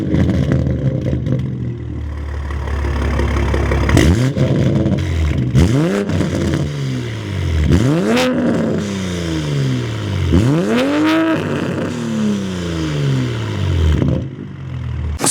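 A Toyota A90 Supra with an SP1X exhaust revs up repeatedly, each blip sweeping up in pitch and falling back, about five sharp rises in a row over a steady idle, loud and close with no talking.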